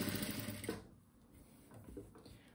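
A sewing machine stitches a dish towel trimmed with bunting, a quiet rapid mechanical chatter that runs briefly at the start, then fades to near silence.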